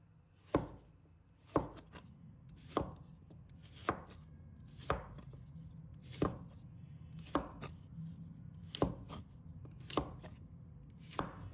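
A knife chops a celtuce stem into chunks on a cutting board, about ten crisp, evenly spaced thuds at a steady, unhurried rhythm, close and clear, with no talking.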